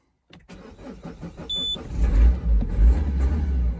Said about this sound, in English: But the van still starts.